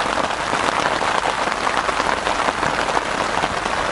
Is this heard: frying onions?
no